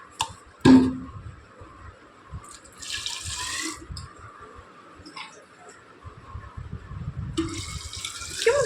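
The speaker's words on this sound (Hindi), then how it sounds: "बॉटल में पानी भर लेती हूँ" Tap water runs into a bottle in a sink, coming in short bursts with gaps between them, close and moderately loud, with light clinks and drips.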